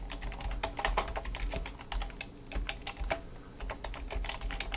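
Typing on a computer keyboard while writing HTML code, rapid irregular key clicks up close and fairly soft, continuing in short bursts without speech.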